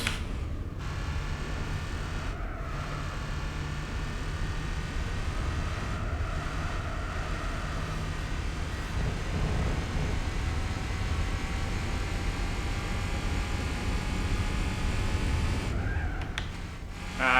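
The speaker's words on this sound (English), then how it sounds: "Actually has quite a heavy engine sound." Heavy car engine in the racing game Gran Turismo 4, a steady low droning roar with sustained harmonic whine, continuous and loud throughout with slight rises in pitch, no talking.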